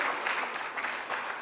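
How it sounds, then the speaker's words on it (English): Conference audience at a Kenya blockchain and crypto event clapping for two presenters, a fairly faint, even patter of many hands with slight swells, no talking on top. "Please give a round of applause to Victor and Amir as well."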